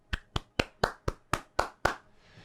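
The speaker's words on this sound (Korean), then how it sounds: "AMD의 멋진 결과물에 응원의 박수를 보냅니다" Eight sharp, evenly spaced hand claps ring out close and alone, each with a short decay, the last fading into quiet room tone.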